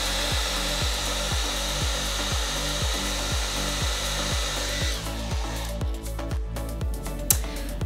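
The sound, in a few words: hair dryer blowing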